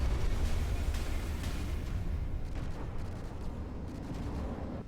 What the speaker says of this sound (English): We got the missiles coming in here.